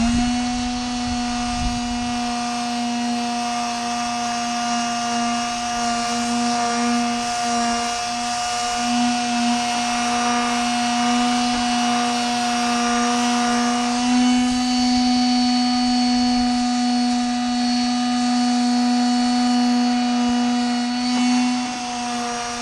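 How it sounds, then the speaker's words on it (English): A steady electric sander sanding the rough edges of wood fence planks whines on continuously, with a strong droning hum and bright high tones throughout, close and loud with no pauses. "Got this simple little sander here, just gonna try to knock off these rough edges"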